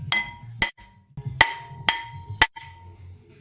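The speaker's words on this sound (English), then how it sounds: "Couple of whacks, this is getting changed anyway." Five sharp metallic hammer whacks ring out at uneven intervals, knocking a worn front brake disc off a Volvo XC90 during wheel bearing work, close and loud with brief ringing after each blow.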